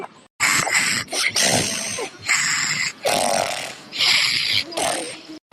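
An elderly grandfather snores loudly while asleep: a series of harsh, rasping snorts in irregular bursts separated by short silences, heard up close.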